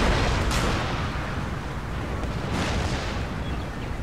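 Cannons firing in the video game Empire: Total War, a dense, continuous roar of distant booms and rumbling blasts blending into a thick wall of battle noise, with a couple of sharper bursts standing out.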